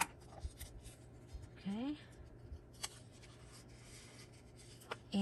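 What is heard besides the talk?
paper being folded in half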